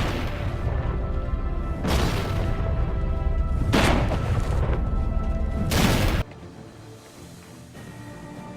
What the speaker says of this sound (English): Fire the mortars!